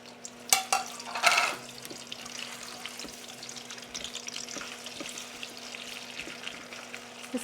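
Onions fry in hot oil for Charsadda mota chawal, a soft steady sizzle with a burst of louder crackle and splashing near the start, then lighter intermittent stirring clicks.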